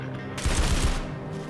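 Rapid gunfire from a weapon in the video game SULFUR, a dense burst of fast shots running nearly the whole clip, loud and close with no talk over it.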